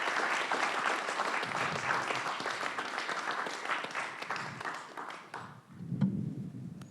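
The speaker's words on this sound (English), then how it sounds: "we should a round of applause for all the organizers" An audience at an academic geophysics talk claps for the organizers in a dense, sustained round of applause that tapers off at the end, with a brief voice and a low thump as it fades.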